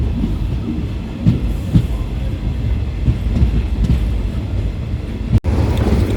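Express train rolling into Thiruvarur Junction, a steady loud rumble of railcars with soft clickety-clack and a few knocks, and one sharp bang near the end, no talking.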